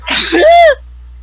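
A single sharp sneeze during a tabletop role-playing game session, loud and close, with a quick inhaled lead-in and a burst that ends abruptly, followed by a quiet room.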